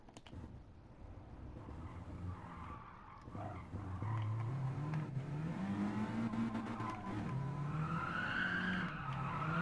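A car's engine note in the Gran Turismo Sport video game, heard as a sustained engine drone that climbs and falls in pitch, with tire squeal and skidding over a constant road roar.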